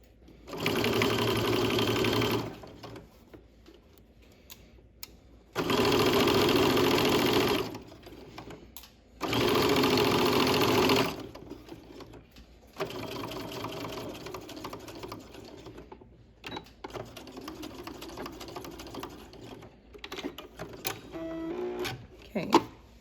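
A sewing machine stitches a waistband in three loud, steady bursts of rapid mechanical whirring, with quieter slow stitching and fabric handling between them and a voice talking softly in the gaps.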